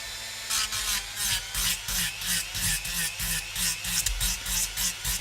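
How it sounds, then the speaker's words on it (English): A Dremel rotary tool shapes foam for a cosplay axe with a steady run of rhythmic, rasping strokes over a low rumble, close and moderately loud. "the subtle rumble of the Dremel machine"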